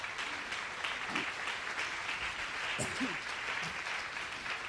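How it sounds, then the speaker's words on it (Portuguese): A church congregation gives a big round of applause for a mother, a dense, steady wash of clapping lasting several seconds with a few low vocal sounds mixed in. "uma grande salva de palmas à mãe"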